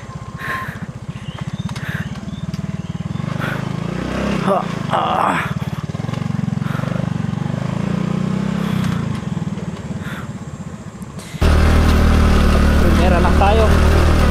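A motorcycle engine drones steadily in low gear on a steep, rough mountain road toward Mt. Ugo, with people talking over it and the engine growing louder in the final seconds.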